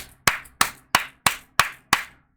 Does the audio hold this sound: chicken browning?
no